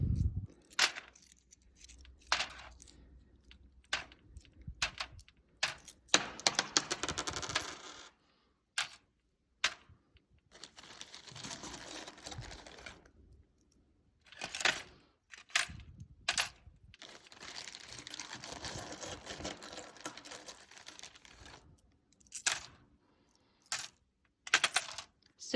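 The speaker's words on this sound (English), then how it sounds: "I'm going to use my coins and see how many coins I can place inside my tinfoil without it sinking." Coins clink and drop one after another into a floating tinfoil boat, in irregular sharp metallic bursts separated by short pauses, close and clear with no talk.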